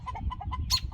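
Backyard chickens clucking close by, a quick series of short, soft clucks in an outdoor setting among spruce trees, followed by a brief higher call.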